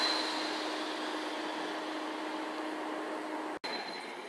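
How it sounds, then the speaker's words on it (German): Car-carrier train bound for Lörrach pulling into Hamburg-Altona station, a steady broadband rumble and hiss of rolling rail wagons with a brief squeal, continuous and fairly close with a short dropout near the end. "der Autozug nach Lörrach fährt ein"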